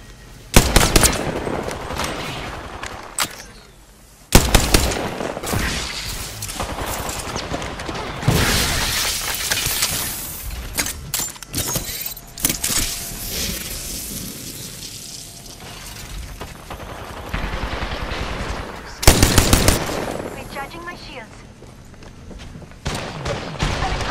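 Gunfire crackles through an Apex Legends firefight in repeated loud bursts and rapid volleys, broken by short lulls, with sharp shattering impacts and scattered footsteps in between.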